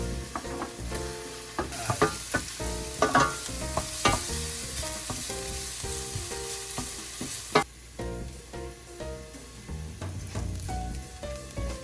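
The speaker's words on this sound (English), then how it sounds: "always fry the veggies first. Get all the flavor out of them. Brown the onion and garlic." Chopped vegetables with onion and garlic browning in a pan, a continuous sizzle broken by repeated sharp scrapes and clacks of stirring, close and fairly loud with no talk.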